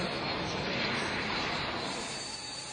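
A US-2 amphibious plane flying, a loud steady roar of aircraft engines filling the whole clip, broad and continuous with no voices over it.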